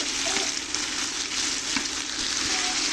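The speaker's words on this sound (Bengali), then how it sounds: "এগুলো একটু হালকা করে ভেজে নেব।" Vegetables lightly frying in a pan for aloo bhaji sizzle in a steady close hiss, broken by faint scrapes and clicks of stirring.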